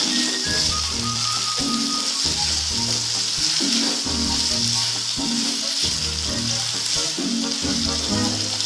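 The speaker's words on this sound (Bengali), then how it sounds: "আলুটাকেও একটু ভাজবো" Steady, loud sizzling of potatoes frying in hot oil, a continuous crackle with occasional stirring, no voices.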